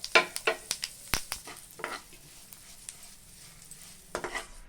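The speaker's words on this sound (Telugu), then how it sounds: "అదే పాన్లో మనం నువ్వులు తీసి పెట్టుకున్నాం తెల్ల నువ్వులు వాటిని వేసి త్వరగా వేయించుకోవాలి" White sesame seeds crackle and pop in a pan, with quick sharp bursts and scraping strokes of stirring, close by, then a quieter stretch.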